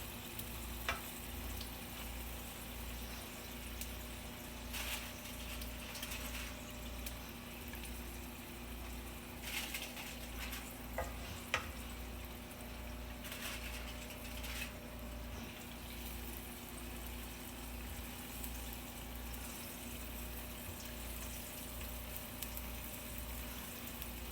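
Flour-coated green tomatoes fry in a pan with a steady, low, continuous sizzle and occasional faint crackles, close and even throughout with no talk.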